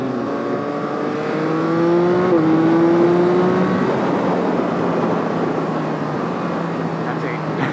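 A 2023 Yamaha XSR900 motorcycle pulls hard on a highway, its engine note climbing in pitch and then settling into a steady roar with wind noise, close and loud.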